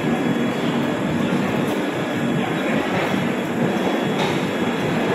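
A Sealdah Rajdhani express train pulls out of Dhanbad station, its steady, loud rumble and rail noise filling the scene continuously with no pauses, heard from the platform near the end coaches.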